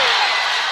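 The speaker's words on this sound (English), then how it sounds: "The Trojans home crowd is yelling" Trojans home crowd yelling at a high school varsity men's basketball game, a loud, steady wash of crowd noise with no breaks.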